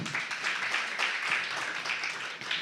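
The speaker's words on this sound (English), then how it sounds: "And a round of applause for Sarah." Audience applause at a female MSME award ceremony, honouring a judge: steady, dense clapping from a large room that holds evenly for a few seconds without a pause.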